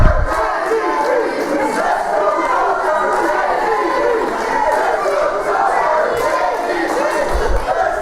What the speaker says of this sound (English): Crowd split here.